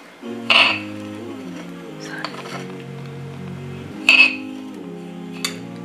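Ground biscuits are stirred into whipped cream in a bowl, with two sharp clinks of a spoon against the bowl and soft scraping over steady background music.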